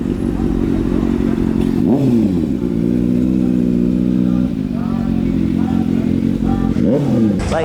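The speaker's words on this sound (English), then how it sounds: "Johnny Tran on the bike." A motorcycle revving at a car meet parking lot takeover, loud engine rising and falling in several sharp revs over a constant idle drone, with people talking nearby.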